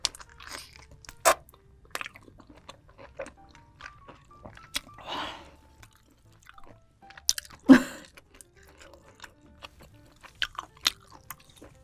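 Close-up chewing of giant turban shell seafood at a Korean mukbang, with sparse, soft wet crunches and squishy bites spread across the stretch and no talking.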